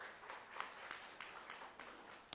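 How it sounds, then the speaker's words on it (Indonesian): Audience applause at an Indonesian business seminar, a faint, steady patter of many hands clapping heard from a distance, continuous for a couple of seconds with no talking over it. "Tepuk tangan untuk ginseng Bapak Ibu."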